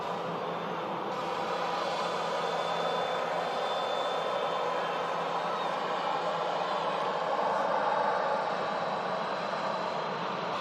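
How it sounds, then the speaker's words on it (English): A Ryanair jet lines up at holding point Juliet 1 at Manchester Airport, bound for Pisa, with a steady, broad engine roar that holds evenly throughout from a moderate distance, with no voices. "Another Ryanair lining up down at Juliet 1,"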